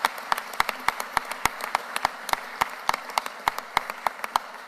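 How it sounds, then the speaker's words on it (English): Steady applause for Philadelphia's incoming managing director, Carlton Williams, at a civic announcement, with distinct individual claps rather than a dense roar, suggesting a modest group clapping at an even rhythm for several seconds. "Could you all give him another round of applause"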